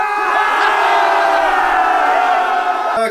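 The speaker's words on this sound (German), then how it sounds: "herzlichen Applaus für dich" A crowd at a German game show cheers and whoops loudly, a dense, sustained roar of voices and shouting filling the whole stretch close up.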